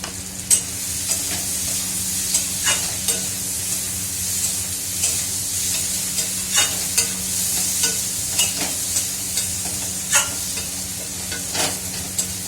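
Cauliflower fries with ginger in a pan, a steady close sizzle running throughout and broken by regular scraping stirs of a spatula every second or so.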